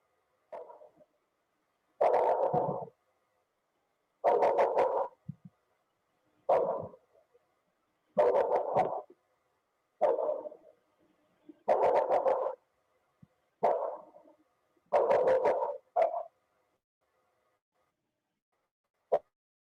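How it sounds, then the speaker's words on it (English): A dog barks in repeated short bursts, roughly every two seconds, fairly loud and harsh, with silence between each volley. "That sounds like a ferocious dog."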